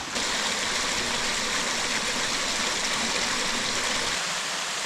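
A small waterfall on Harpers Creek in the Wilson Creek Wilderness pours in a steady, close, full rushing hiss, unbroken from start to finish with no voices.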